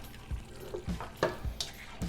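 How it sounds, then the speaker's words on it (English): Cheese sauce softly sizzles and faintly bubbles in a pan, broken by scattered scrapes and taps of stirring, quiet and close. "I'm starting to hear just a little bit of a little bubbling, a little sizzling on the bottom."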